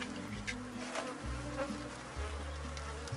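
Honeybee colony buzzing steadily during a hive inspection, a dense continuous drone with individual bees passing closer now and then, no voices.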